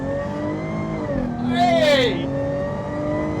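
A Jaguar F-Type V6S pulls hard under full acceleration, its engine note climbing and sweeping upward in a loud, close rush, while a passenger shouts briefly over it.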